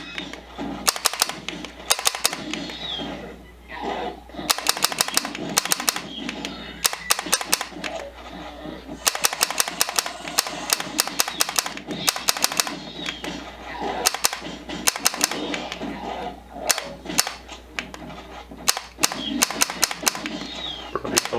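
Rapid gunfire from the Jurassic Park The Lost World arcade light gun shooter, running in an emulator: repeated bursts of sharp cracking shots over busy game music and sound effects, steady and loud throughout.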